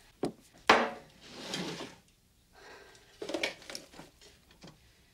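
A wooden drawer is pulled open and rummaged through, with sharp knocks, sliding scrapes and rattling contents in two bursts separated by a short quiet gap.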